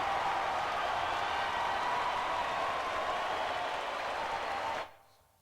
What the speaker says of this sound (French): grâce à la technique, nous pouvons même avoir des stades qui nous applaudissent